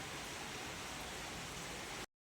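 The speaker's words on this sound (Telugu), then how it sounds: "అసలు ఫుల్ వర్షం పడుతుంది" Dense, steady hiss of rain pouring down, a broad even roar that cuts off abruptly into silence.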